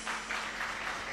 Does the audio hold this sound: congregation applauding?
yes